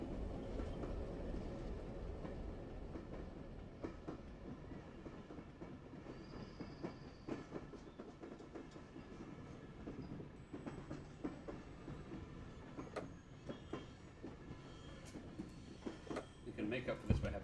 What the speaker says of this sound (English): is this train gonna make it? I put all the fuel I could into it.